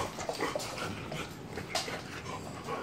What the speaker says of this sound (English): Just my dog being wild.